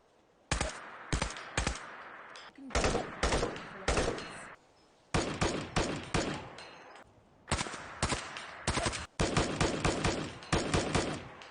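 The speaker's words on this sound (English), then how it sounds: "each type of ammunition this weapon uses has its own unique sound." Gunfire from a modded weapon in Fallout 4, the video game, cycling through different ammunition types: repeated bursts of sharp, loud shots in quick rapid-fire clusters separated by short pauses, with no talk.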